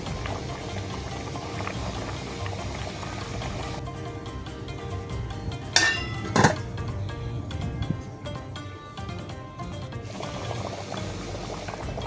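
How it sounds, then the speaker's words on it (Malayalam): Sardine curry with kudampuli bubbling in a covered pot, a steady close simmering hiss with a couple of brief sharp clinks midway, and no voices. "അടച്ചു വെച്ച് കുറച്ച് സമയം വേവിക്കുക."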